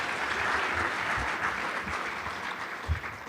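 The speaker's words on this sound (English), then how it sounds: "Let's give everyone a round of applause again." Steady applause from a school awards audience at a Newport News Public Schools evening event, a dense patter of clapping heard alone without talk.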